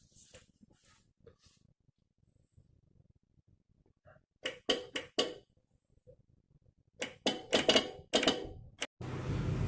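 A Royal Enfield 350 starter solenoid switch gives sharp, close clicks, a few sparse ones and then rapid clusters of loud clicking, ending with a brief rush of noise.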